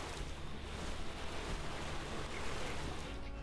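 Watering seeds in the farming video game Lightyear Frontier, heard as a continuous, loud, broad hiss of spraying water running steadily throughout without a break.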